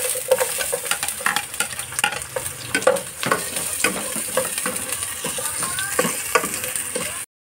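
Onion, garlic and ginger sauté in hot oil, crackling and sizzling steadily near at hand, with repeated clanking scrapes of a utensil stirring the pan throughout before an abrupt cut to silence.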